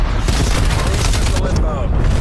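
Proximity mine detonation in Call of Duty Black Ops Cold War, a loud, dense blast rumbling under continuous gunfire and game chatter throughout.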